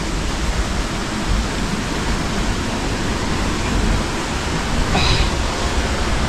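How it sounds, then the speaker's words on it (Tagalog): Heavy rain pours outdoors, a dense steady broadband roar filling the whole clip at constant loudness, close and enveloping, with no talking. "Yan na, inabot na tayo ng ulan."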